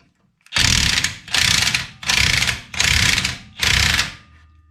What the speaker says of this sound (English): we can start to undo the spring compressor some